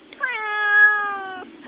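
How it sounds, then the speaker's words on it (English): A whining cat lets out one long, drawn-out meow close to the microphone, rising slightly then fading, with no talk over it. "What's going on, whiny cat?"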